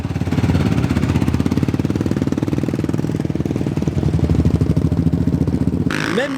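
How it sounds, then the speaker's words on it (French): Quad bike engines at an off-road desert festival in the United Arab Emirates, a loud, close, rapid throbbing putter that runs continuously before a brief revving sweep near the end, with no voices. "des quads,"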